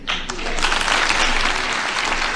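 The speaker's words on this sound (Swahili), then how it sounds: "Makofi tena." Crowd applause at a public meeting, a sudden burst of dense, loud clapping that holds steady throughout.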